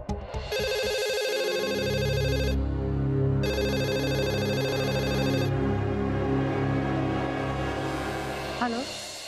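A landline telephone rings in two long electronic bursts with a pause between, loud and close over a low musical background.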